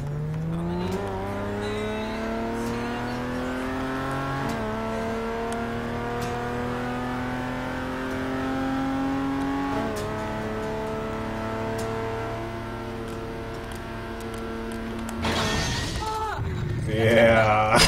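A video game car engine revving in long rising and falling tones, held under quiet background chatter, ending in a burst of crashing noise and harsh high-pitched sound.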